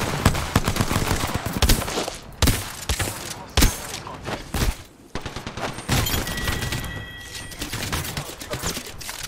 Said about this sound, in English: Where am I even getting shot from?